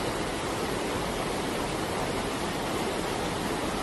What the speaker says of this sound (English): Some streets in the county town were flowing rapidly